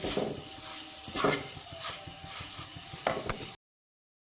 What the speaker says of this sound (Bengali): এখন আমি একটা কাটা চামচ নেব নিয়ে আমি একটু ছড়িয়ে ছড়িয়ে দেব